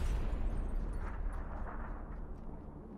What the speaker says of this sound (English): Grenade. Oh.